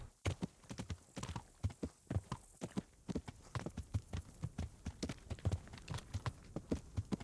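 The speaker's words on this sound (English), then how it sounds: "Interesting that there are horses here." Horses clip-clop in the video game Kingdom Come: Deliverance, a quiet run of uneven hoof strikes in a loose walking rhythm, close but faint.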